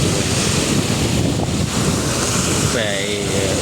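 Sea wind buffeting the microphone with waves washing around a small boat at sea, a continuous loud rushing roar, with a brief higher whining tone near the end.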